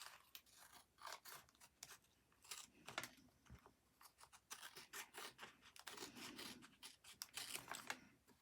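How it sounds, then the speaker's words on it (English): Scissors snip and slice through a paper window envelope at close range, a series of quiet crisp cuts and rustles in an uneven rhythm with short pauses. "Let's just cut that over and cut that top piece off."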